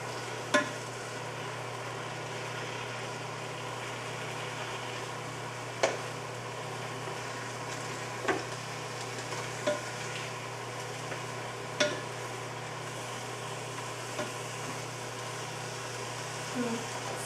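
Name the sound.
chopping and stirring ragu in a Ninja Foodi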